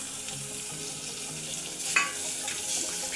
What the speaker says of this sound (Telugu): ఈ ముక్క కొంచెము నూనె అట్లా వదిలేలాగా ఫ్రై అవ్వనిద్దాం